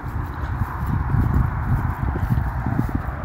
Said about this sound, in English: There's a pony keeping guard on the footpath.